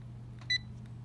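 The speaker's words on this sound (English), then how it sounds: "press and hold the mode button until a beep is heard." A single short, clear electronic beep from a handheld anemometer as its mode button is held down, sounding alone against a steady low hum.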